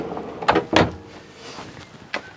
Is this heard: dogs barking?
no